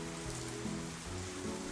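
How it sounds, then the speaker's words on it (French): Gentle rain falls in a soft, even patter, a steady hiss of drops with no talk or other sounds. "Écouter la pluie tomber doucement."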